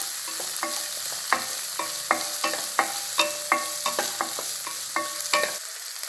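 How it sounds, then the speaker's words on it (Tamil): Chopped garlic and onion with cumin frying in hot oil in a pan, a steady sizzle broken by repeated scraping stir strokes at an even pace, with no talking. "இது நல்லா ஃப்ரை பண்ணணும்."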